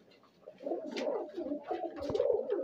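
A female Punjabi high flyer pigeon with white eyes coos in a low, steady, continuous rolling murmur, close and fairly loud, with no other sounds.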